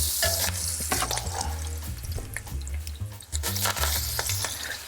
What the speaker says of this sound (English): we're going to take the schnitzels we've done, put them in a little bit of oil that's boiled up right now